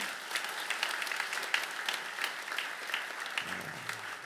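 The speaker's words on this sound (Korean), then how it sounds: "힘찬 격려의 박수 한번 보내주시고요." Steady applause from a church congregation during a special early-morning autumn revival service, moderately distant with crisp individual claps standing out, and a brief low voice near the end.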